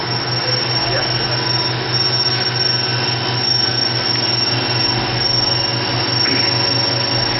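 The spindle of a 2000 Haas VF-5 40-taper vertical machining center runs at 7,500 RPM, giving a loud, continuous whine and rumble with some talk over it.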